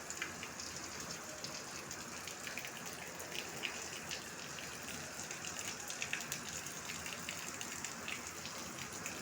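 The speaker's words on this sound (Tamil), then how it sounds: "பயங்கரமாக மழை பெய்யுது" Heavy rain pours down, heard from a rooftop as a dense, continuous patter of drops striking surfaces, unbroken throughout.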